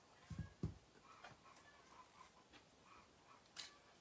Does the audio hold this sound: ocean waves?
no